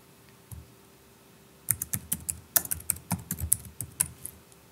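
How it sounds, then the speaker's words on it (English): Someone types a short name on a computer keyboard, a quick burst of about a dozen close, crisp key clicks with a single isolated tap before it, in a quiet room. "Type in the name and press enter to accept."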